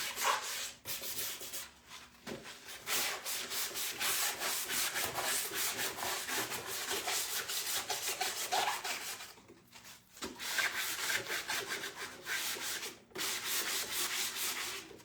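Steady scratchy rubbing of sandpaper on an old wooden chair, continuous and close, with a few brief pauses between strokes.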